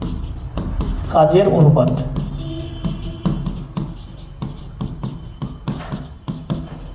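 A pen scratches steadily on paper while a class-ten maths partnership problem is worked out, with short strokes and taps heard under a teacher's voice speaking throughout.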